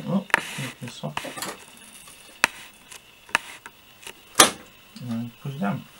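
A graphics card is pressed down into a motherboard slot during a processor and motherboard upgrade, giving a few sharp, close clicks and knocks spaced a second apart amid low handling rustle.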